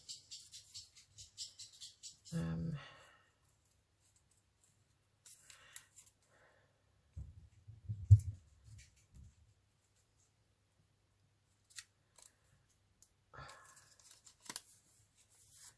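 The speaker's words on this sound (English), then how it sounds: "I may have to just cut round with these scissors" Quiet, scattered snips of scissors cutting paper come in small bursts with long silences between, plus soft rustling and handling noises.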